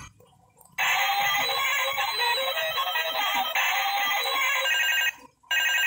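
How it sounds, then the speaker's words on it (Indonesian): A pink Barbie toy telephone with a white handset rings with a bright electronic trill, loud and continuous for several seconds, then pauses briefly and starts again. "bisa bunyi ya. Mantap nih mainan telepon-teleponan warna pink"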